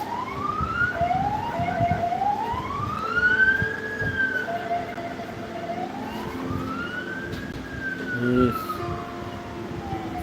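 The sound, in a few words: emergency vehicle sirens in Jerusalem street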